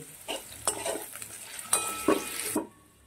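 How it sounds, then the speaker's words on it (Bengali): Potatoes with turmeric and salt fry in a pan and are stirred in several sharp scraping strokes over a soft, steady sizzle, with no talking. "আলুটা আরেকটু আমি ভালো করে ভেজে নেব।"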